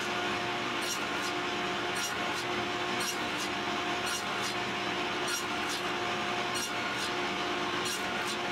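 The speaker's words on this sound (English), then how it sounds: "here we're cutting at 1/3 of the depth through both of these two pieces" A hand saw cuts a three-way lap joint through two mated wooden pieces at one third of their depth. The close rasping strokes repeat in an even rhythm of roughly one per second, with no talk.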